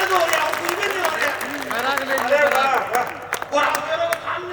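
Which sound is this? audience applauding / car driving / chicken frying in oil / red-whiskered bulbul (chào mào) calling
audience applauding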